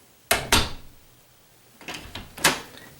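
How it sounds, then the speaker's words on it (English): Interior door being shut with a thin felt pad cushioning the latch, two soft knocks followed a moment later by a few quieter taps and a muted final thud, close by. "that little felt pad is doing, it's just kind of cushioning this little latch fall"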